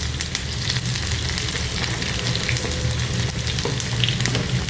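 Thinly sliced medium onions fry in oil in a non-stick pan for chickpea biryani, giving a steady, loud, dense sizzle throughout with faint crackles and no voices.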